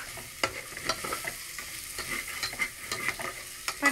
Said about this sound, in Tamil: பட்டாணி கொஞ்சம் ஃப்ரை ஆகணுங்க.